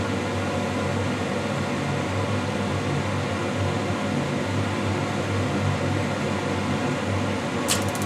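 Gas furnace converted to LP with its burner running, a steady, close, broadband roar with a low hum underneath, unchanging throughout and ending with a faint brief click.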